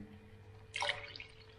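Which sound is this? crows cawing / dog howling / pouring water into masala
pouring water into masala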